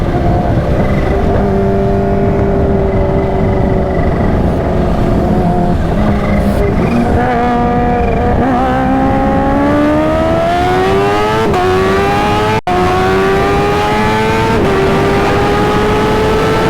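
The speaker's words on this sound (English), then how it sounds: "I am hitting the rev limit and I'm shifting too late." A supercharged 350 hp Kawasaki Ninja H2 motorcycle engine screams loud and close, revving up through the gears with rising whines that bounce off the rev limiter before each late shift.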